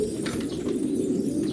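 Pigeons at a pigeon-keeping competition in Quetta coo in soft, low, throaty murmurs, a close continuous burble lasting under two seconds with no voices.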